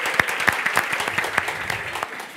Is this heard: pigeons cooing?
no